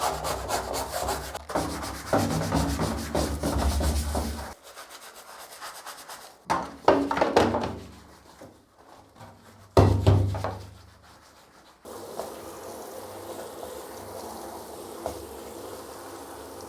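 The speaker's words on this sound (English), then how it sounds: "time to scrub the case parts and the keycaps." Plastic Commodore 64 case parts and keycaps are scrubbed in close-up, with rough, rhythmic brushing strokes that come in bursts and pause between passes, sometimes wet and splashy.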